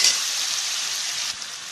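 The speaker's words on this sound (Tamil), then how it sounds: "இதில் 3 மீடியம் சைஸ் தக்காளி வந்து மிக்சியில் அடித்து வச்சதை ஆட் பண்ணி நல்லா வதக்கிக்கலாம்." Onion, ginger-garlic paste and pureed tomato from three medium tomatoes sizzle steadily in a pan for an egg curry, a loud, close, continuous frying hiss with a brief dip near the end.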